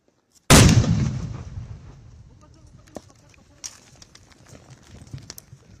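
A single sudden, loud blast from the controlled detonation of an unexploded mortar shell booms out, then trails off in a long rumbling decay, with faint clucking birds and small knocks in the background.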